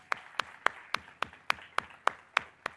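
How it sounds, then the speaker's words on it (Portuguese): A church congregation claps for a visitor who arrived by bicycle, sounding as a steady, evenly spaced run of about ten sharp claps, close and fairly faint, with no talk over them. "Bora aplaudir ele, bora."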